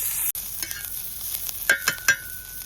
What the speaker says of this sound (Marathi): आता तेल टाकतो कांदा भुजासाठी